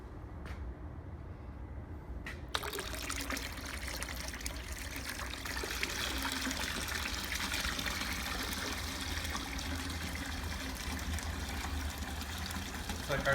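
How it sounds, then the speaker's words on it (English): Water pumped into a Zen fountain bowl, a soft continuous trickle and gurgle that starts after a quiet moment and runs steadily at moderate distance, with faint speech now and then. "Bowl's filling up."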